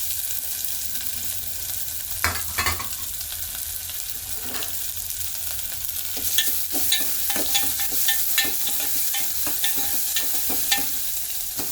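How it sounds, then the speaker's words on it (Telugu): Chopped onion frying in hot oil with mustard seeds and cumin, a continuous close sizzle with repeated spoon stirring and scraping that grows busier and louder partway through, no talking. "ఆనియన్ బాగా గోల్డెన్ బ్రౌన్ కలర్ వచ్చే వరకు ఫ్రై చేసుకుందాం"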